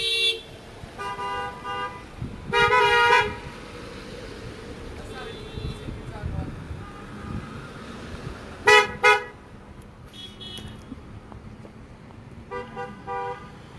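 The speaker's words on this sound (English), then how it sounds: "motorists are driving around and honking their horns" Car horns honk repeatedly from passing vehicles at a drive-by protest outside the Camp Hill Borough building, loud bursts of several seconds each over steady traffic and wind noise, with a person talking throughout.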